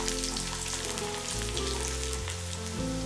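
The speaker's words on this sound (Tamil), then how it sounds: "இதெல்லாம் நல்லா வதக்கிடலாம்" Garlic and tamarind sautéing in a pan for horse gram chutney, a loud continuous sizzle with occasional stirring scrapes, alone without voices.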